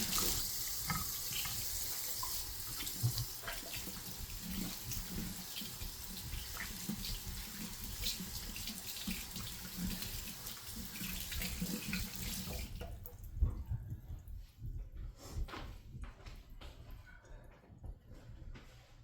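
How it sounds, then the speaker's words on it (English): Running kitchen tap water splashes steadily as hands are washed at a sink during homemade meatball preparation, loud and continuous, then the tap shuts off and only faint clatter and handling noises remain. "Wash my hands again."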